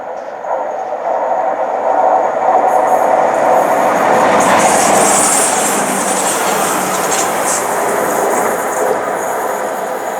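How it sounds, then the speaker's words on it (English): In a train simulator, a Northern train on the Calder Valley line rumbles loudly into Moor Railway Station, brakes hissing and squealing faintly as the rolling noise slowly eases. "The Chester to Leeds service is stopping here for Northern"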